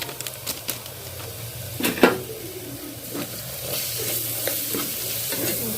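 Stirring a masala curry of pigeon peas in oil, with a steady scraping rhythm and a few sharper spoon strokes over a low continuous sizzle; no voices.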